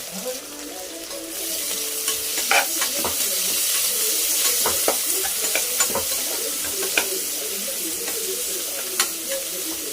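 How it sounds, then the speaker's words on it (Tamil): Onions and chillies sauté in a hot pan with a steady, close sizzle, broken by occasional scraping clicks of a spoon stirring against the metal. "வெங்காயம் நல்லா பொன்னிறமாக வர்ற வரைக்கும் வதக்கணும்."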